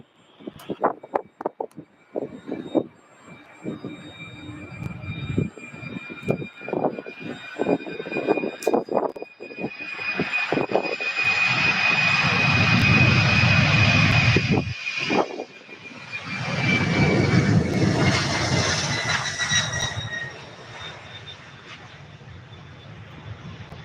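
A UPS jet takes off at Louisville airport bound for San Diego, beginning with scattered clicks and knocks, then a loud roaring engine rumble that swells, dips and surges again before fading, heard from a distance.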